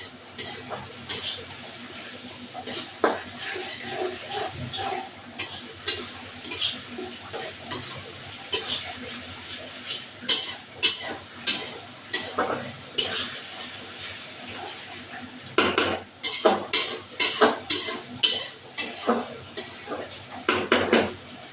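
Chicken sizzles in a pan while a utensil stirs and scrapes it, with repeated metallic clatter throughout.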